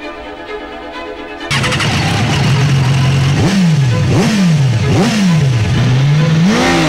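A BMW S1000RR sport motorcycle idles briefly, then its engine is revved hard and loud close by, several quick rising-and-falling throttle blips followed by a sustained higher rev.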